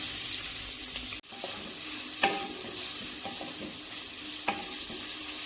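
Chopped large onions hit hot oil in a wok for vegetable Hakka noodles, giving a steady hiss and crackle of frying with a few sharp scraping stirs; no one talks.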